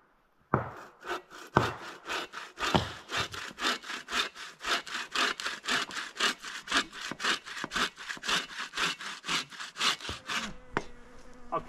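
A handsaw cuts dry wood into roughly ten-inch pieces at a canoe camp, with rapid, steady back-and-forth strokes that rasp loudly and evenly for about ten seconds before stopping.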